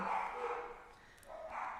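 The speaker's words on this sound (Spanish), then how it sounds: "Dios, que se callen los perros." Dogs barking in the background, a sustained harmonic yapping that rises and falls across the clip, moderately loud, with no talk over it.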